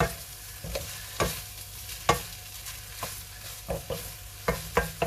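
Pad thai being stirred in a hot pan: a soft continuous sizzle with repeated scraping clinks of the utensil against the pan at irregular intervals, close and fairly quiet.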